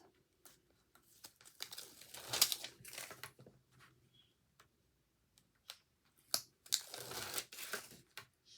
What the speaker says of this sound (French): On retire le double face.